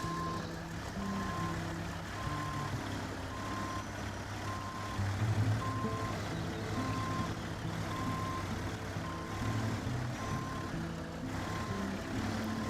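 A truck in a video game backs up with a steady run of evenly spaced reversing beeps over a continuous low engine drone, moderately loud and close, with no talk.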